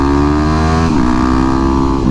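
A 2009 Yamaha WR250X motorcycle revs hard and close during a wheelie attempt, a loud sustained engine whine that dips briefly and climbs again.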